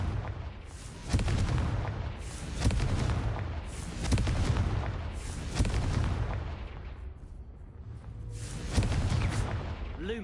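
Confringo fire spells burst in repeated booming explosions during combat in the video game Hogwarts Legacy, about six heavy blasts spaced a second or two apart, with no one speaking in between.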